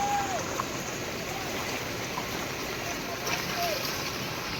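Continuous rushing water flowing into a farm field, a broad steady wash of flow with no pauses, close and fairly loud.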